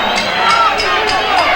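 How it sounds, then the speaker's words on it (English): A boxing arena crowd cheers loudly for a hometown fighter during a bout between Jesse Burnett and Victor Galindez, a dense continuous roar with rising swells throughout. "Most of the crowd still on its feet, cheering a hometown hero, Burnett"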